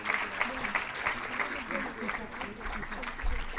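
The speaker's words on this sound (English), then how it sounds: "can we have a huge round of applause for these winners" Audience applause at a typography conference award ceremony for the announced winners: a steady wash of clapping that runs the whole time, with a voice talking over it.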